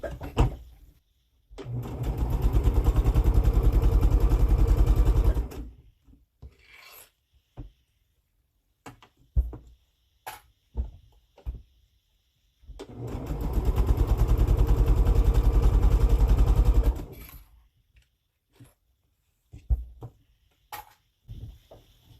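A sewing machine whirs in two long rapid stitching bursts, each several seconds long, separated by quiet handling clicks and fabric rustles.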